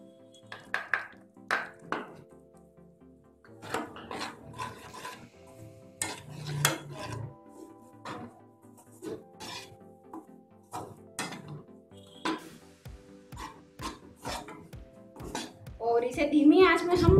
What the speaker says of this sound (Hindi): धीमी आंच में हम हिलाते रहेंगे तब तक ये ब्राउन अच्छा ब्राउन ना होए